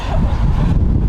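Strong wind blows on a Marseille beach, battering the microphone with a loud, dense, low rumble for a brief moment, with no voices.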